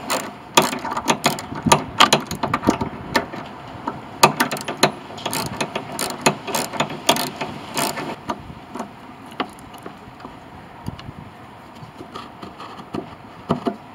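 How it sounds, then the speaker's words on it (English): A ratchet backs an 8mm nut off a Honda lawn mower's drive cover, a close, steady run of rapid metallic pawl clicks in uneven bursts that thin out toward the end, with no voices. "The only thing you have left to do after that is take off this 8mm nut."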